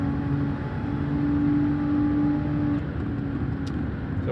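Race car engine in Gran Turismo 7 during a daily online race: a sustained, steady engine drone with a held tone that eases off partway through, continuous and close, with no talking.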